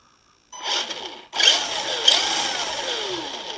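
A Tamiya TT-01 Type E radio-controlled car's electric motor whines up as the throttle is blipped, a rising high-pitched electric whir that cuts out briefly and returns, close and fairly loud, with no voices.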